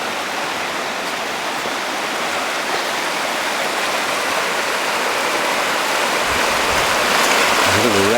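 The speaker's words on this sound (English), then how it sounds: "There's the river there." Rushing river rapids during a flood give a steady, loud broadband roar of water throughout, with no voices heard.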